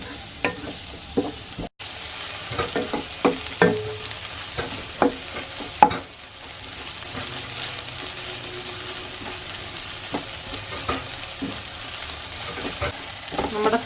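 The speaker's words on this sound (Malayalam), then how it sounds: "ഒരു വലിയ കഷ്ണം ഇഞ്ചി കൊത്തി അരിഞ്ഞതും 7 അല്ലി വെളുത്തുള്ളി നീളത്തിനരിഞ്ഞതും നമുക്ക് ഈ സവാളയിലേക്കിട്ട് നന്നായി വഴറ്റിയെടുക്കാം" Sliced onion with a large piece of finely chopped ginger and seven cloves of long-cut garlic sautéing in a pan, a soft continuous sizzle with repeated spatula scrapes and clicks, close and steady.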